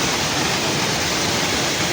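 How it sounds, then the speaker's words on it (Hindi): Heavy rain and rushing runoff water in Kashmir make a steady, dense roar like a waterfall, close and constant throughout with no breaks. "इस शदीद बारिश में नज़ारे भी चेक करें और तूफ़ान भी चेक करें।"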